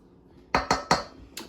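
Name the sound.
mixing pizza dough ingredients with baking powder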